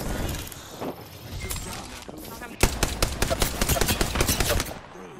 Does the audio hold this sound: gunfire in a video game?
yes